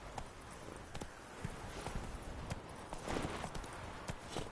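A horse galloping in The Witcher 3 video game, a steady quick run of hoof clip-clops on ground, loud and close, continuing with no talk over it.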